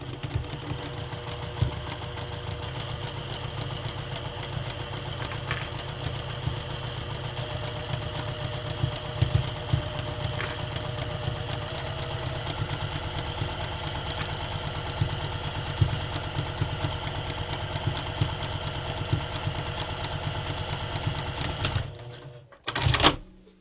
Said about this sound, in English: sew with the fabric against the bed of your sewing machine